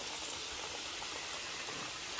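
Chicken aloo samosas fry in hot oil over a low flame, giving a soft, even, continuous sizzle and hiss with no voices.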